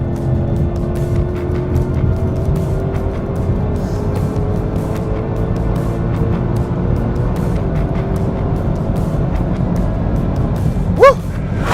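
A 2020 Mustang Shelby GT500 accelerates hard during a drag race with a loud, continuous engine roar. Rising tones mark each climb through the revs, and a brief sharp sound cuts in near the end.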